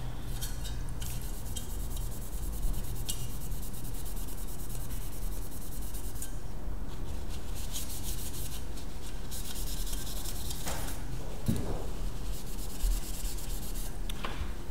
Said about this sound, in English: So if I give that a bit of a clean, use some copper cleaner.